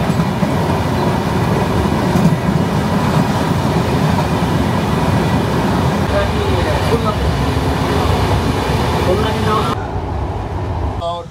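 The Jahanabad Express runs from Dhaka to Khulna with a steady, loud rumble and clatter that persists throughout and drops slightly near the end.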